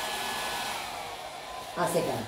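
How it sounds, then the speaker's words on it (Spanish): A hair dryer blowing steadily to dry glue in a craft project, a constant close whooshing hum that rises briefly in pitch and airflow near the end. "Vamos a agarrar secador de pelo"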